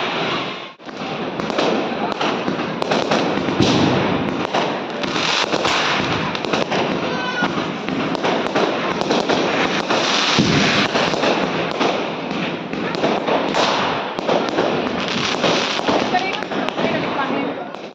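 Diwali firecrackers and fireworks explode continuously, a dense, loud barrage of overlapping bangs and crackles with people's voices mixed underneath throughout.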